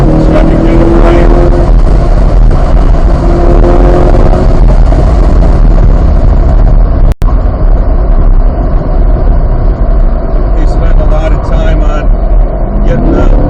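A 2023 Corvette C8 Z51 at speed on a racetrack, its engine a loud steady roar with dual-clutch paddle shifts, heard from inside the car under a continuous wind-buffeted drone.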